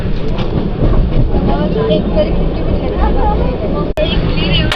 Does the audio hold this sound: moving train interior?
yes